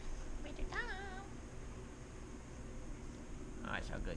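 A house cat meows twice, a wavering drawn-out call early on and a shorter one near the end, heard quietly over a steady background hiss.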